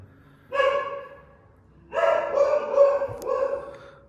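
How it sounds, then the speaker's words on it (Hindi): Dogs bark in two bursts, a short one then a longer run of overlapping barks and yips, moderately near, with quiet gaps between. "और अभी भी वो भौंक ही रहे हैं"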